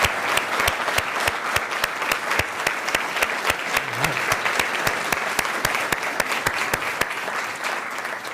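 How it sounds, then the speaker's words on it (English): Steady applause from a town hall audience honoring a panel, evenly sustained at moderate level with individual sharp claps standing out throughout, no speech. "Can we give our panel a round of applause"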